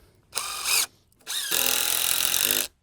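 A power drill drives 3.5 inch treated screws into wood in two close, loud bursts, a short whir followed by a longer steady run, with no talking.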